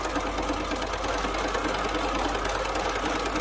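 A sewing machine stitches a quilt block for a heart-pattern table runner with a quarter-inch seam, giving a steady, continuous mechanical whir that runs unbroken at close range with no talking.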